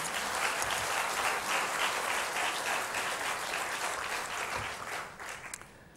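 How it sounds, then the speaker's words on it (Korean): A church congregation claps for God's glory during a 50th-anniversary mission service, with a full, sustained round of applause that fades slightly near the end. "하나님께 영광의 박수 올리겠습니다."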